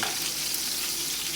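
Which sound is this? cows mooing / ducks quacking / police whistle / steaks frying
steaks frying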